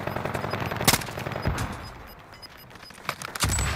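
Rapid automatic gunfire in a PUBG-style shooter video game, loud bursts with sharp cracks and rattling fire, continuing in uneven volleys.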